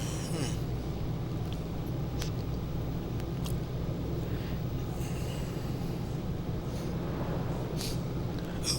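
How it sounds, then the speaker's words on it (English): Steady engine and road rumble of a truck driving in Euro Truck Simulator 2, with oncoming traffic passing on the other side; a continuous loud low drone with a few faint brief higher whooshes over it, no talk. "A lot of traffic coming the other way."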